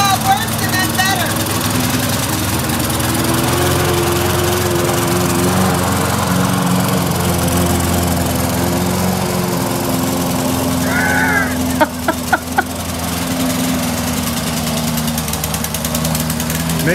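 A Toro lawn mower engine runs roughly and loudly while spitting black and white smoke, a constant uneven drone with knocking and a few sharp sputters partway through, and voices are heard over it.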